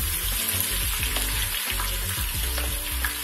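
Onions and peppers tipped into sizzling garlic in a pan for a chickpea and spinach stew, a dense, steady frying hiss with scraping stirs up close.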